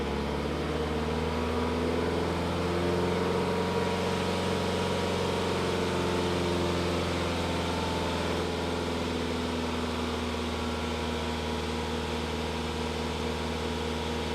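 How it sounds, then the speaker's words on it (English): A BMW 3 Series diesel engine, running during a DPF cleaning, holds a raised steady rev around 2,500–3,000 RPM, a loud continuous close drone with a faint wavering hum, and no talk. "Let's rev it up."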